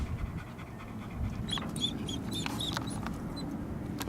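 A dog pants softly nearby in quick, rhythmic breaths, faint against a low rumbling background on an off-road trip with a vehicle fitted with 37-inch tires.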